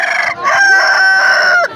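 A rooster crows loudly and close at a poultry market in Khazarasp, one sustained cock-a-doodle-doo call with a brief break, heard clearly above faint background.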